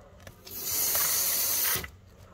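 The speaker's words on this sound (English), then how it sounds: "So I'm going to go ahead and release the valve." Hydraulic fluid sprays out of a released valve while a Honda Prelude ABS unit is bench bled, a sharp steady hiss swelling up and holding for about a second before cutting off, close and alone.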